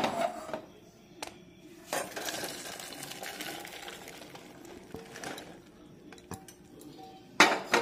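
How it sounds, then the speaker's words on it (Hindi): Boiled corn is drained in a metal strainer in a kitchen, with intermittent clinks, knocks and rattles of kernels and metalware, several sharper clanks near the end, close and fairly quiet. "इसे हम छान लिए हैं, इसका पानी पूरा हम निकलने देंगे।"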